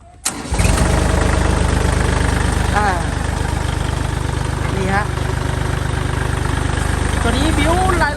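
A used Kubota L3608 tractor diesel engine cranks and catches, then idles loud and close with a steady knocking chug, with brief speech over it.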